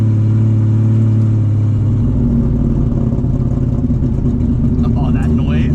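A 1400-horsepower all-wheel-drive Nissan S13 street build revs hard and loud, a dense steady engine roar filling the clip from inside the car while people talk over it.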